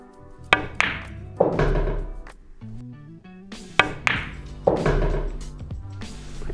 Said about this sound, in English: just a very smooth stop shot on the 7 ball